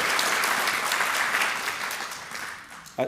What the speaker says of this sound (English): can we give a round of applause for Women's History Month, too?